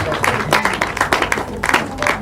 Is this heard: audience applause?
yes